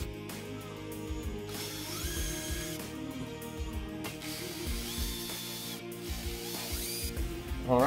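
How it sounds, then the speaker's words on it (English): Screws driven in to fix the mounting bracket of a biometric wall-mounted speed safe to a wall, with repeated ratcheting, whirring tool bursts and clicks close up, no talking. "Now secure the mounting bracket to the wall with the four screws."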